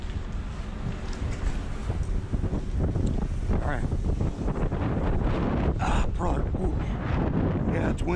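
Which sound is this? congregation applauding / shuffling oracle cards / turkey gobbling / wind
wind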